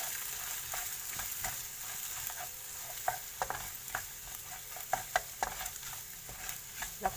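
Scrambled eggs with tofu stirred in a pan over low heat, giving a soft continuous sizzle with irregular taps and scrapes of the utensil that quicken toward the end.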